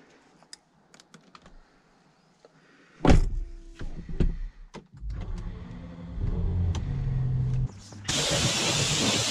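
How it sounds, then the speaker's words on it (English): A Rolls Royce car reversing during wheel cleaning: a few clicks and a door-like thud, then a low engine rumble that builds, ending in a sudden loud hiss of air or water near the end. "I reverse the Rolls Royce to get a new angle on the wheels"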